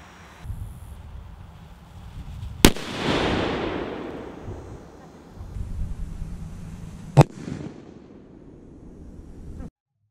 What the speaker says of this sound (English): The M80 was incredibly loud